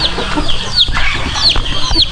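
Chickens clucking close by on a farm where turkeys are also kept, a few sharp squawking calls repeating over a steady farmyard murmur.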